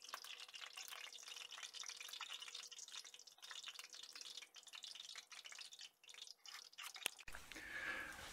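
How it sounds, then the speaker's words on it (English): A breaded pork cutlet deep-fries in hot oil, giving off a continuous crackling sizzle with scattered pops, heard close and fairly quiet until it cuts off abruptly near the end. "Now I'll put the cutlet in the hot oil."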